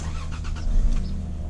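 A 2002 car with 182,000 miles cranks and starts up, its engine catching quickly and settling into a loud, steady idle close by, with no talking.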